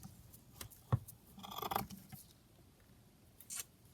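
Scissors snip through a piece of lace for a digital-kit craft project, giving a few quiet crisp cuts, with one sharp thump, then a brief burst of rustling snips and a faint later clip, all close and fairly soft.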